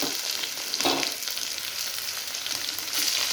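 Ginger garlic paste frying in a pan over browned onions for a chana dal and drumstick curry, giving a steady, close broadband sizzle with a brief louder burst of spattering near the start.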